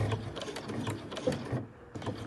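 A sewing machine stitches across the front flap of a backpack, running in a steady mechanical whir with short pauses, close up and alone with no talk.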